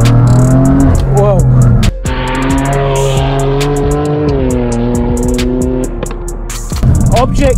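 BMW F80 M3 with Pure Turbos stage 2+ upgrades, about 700 wheel horsepower, accelerating at half throttle, a loud close engine drone rising in pitch through gears with brief shift breaks, heard from inside the car.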